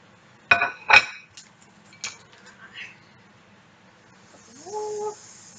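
Potatoes are flipped while shallow frying in a pan: a few sharp metallic clinks and scrapes of a utensil against the pan, spaced apart over a quiet background, followed later by a brief tonal sound.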